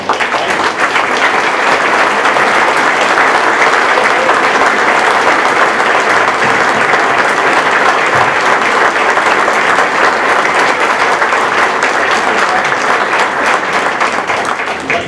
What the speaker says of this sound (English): Record show that Bob has received the loudest applause of any candidate